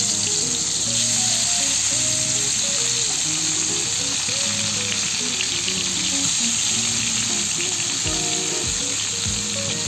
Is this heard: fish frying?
yes